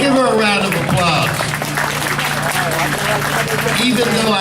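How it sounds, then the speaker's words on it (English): Audience clapping at an apartment groundbreaking ceremony, a steady wash of applause with voices talking over it throughout. "Come on, give her a round of applause."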